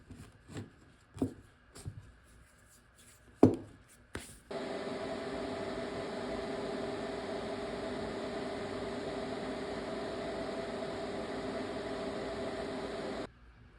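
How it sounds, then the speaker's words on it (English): Parts of a steering column on a rear-wheel-drive brass Mini with a 1.8T engine are welded. A few scrapes and knocks come first, then a steady, even electric welding hiss lasts about nine seconds and cuts off abruptly. "So let's get all this welded up real quick, and then we'll see if it fits."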